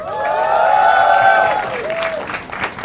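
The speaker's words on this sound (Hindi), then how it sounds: "तालियां हो जाए यार।" Loud studio audience applause with cheering on a comedy show, a strong sustained tonal sound over it at first, then continuing claps and noise.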